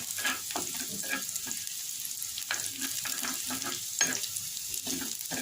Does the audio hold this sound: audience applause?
no